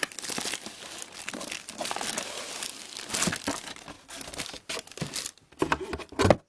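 Plastic bag crinkling and rustling up close around an action figure, in irregular bursts with brief pauses, loud and crackly throughout.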